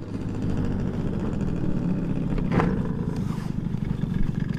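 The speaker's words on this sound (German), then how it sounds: "So, jetzt Motor aus. Soundcheck können wir uns sparen. Ja, Yamaha Zest 80" Yamaha Zest 80cc scooter with small ten-inch wheels idles while standing still, a steady low engine rumble running throughout at moderate level, with a brief brighter rise partway through.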